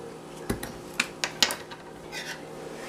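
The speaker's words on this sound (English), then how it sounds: "you're going to want to whisk all this together" A whisk clicks against a bowl while mixing brown sugar salmon glaze with salt and pepper, making a handful of sharp, uneven taps and scrapes over a quiet background.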